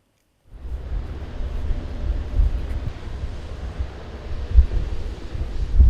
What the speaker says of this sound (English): I put my sensors on it just for you to hear, because it was very windy as well.